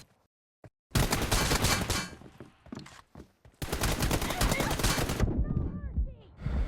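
A team deathmatch in a mobile shooter game has long bursts of rapid automatic gunfire, loud and dense, broken by short pauses and lighter shots, with a voice talking in places.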